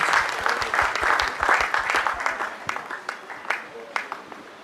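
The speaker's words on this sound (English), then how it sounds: "Please give him a round of applause." An audience at a Nigerian alumni foundation ceremony gives a round of applause: dense, steady clapping fairly close and loud, gradually thinning into scattered individual claps toward the end.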